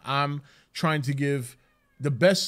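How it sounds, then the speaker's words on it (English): A pet cat meows a few times in the background of a room, its calls partly mixed with someone talking over it. "I don't know if you guys hear my cat in the background."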